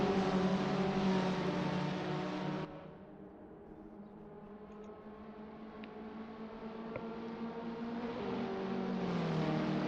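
Peugeot 206 GTi Cup race cars in the Assetto Corsa game at the Nürburgring drone along in a steady engine roar, dipping briefly then climbing back as revs build, loud and continuous with no talking.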